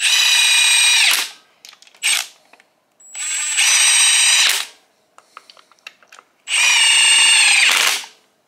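A power tool runs a bolt into a Ford Modular engine's oil system in repeated loud whirring bursts, three longer runs and a short blip, each ending with an abrupt stop, with clicks and handling noises between them.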